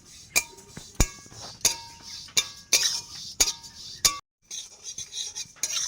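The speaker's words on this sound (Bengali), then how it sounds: "তিলের নাড়ু করার জন্য তিলটা প্রথমে ভেজে নিচ্ছি" Sesame seeds dry-roasting in a pan while a metal spoon stirs them, giving a steady series of bright clinks and scrapes against the pan, close and clear with brief pauses between strokes.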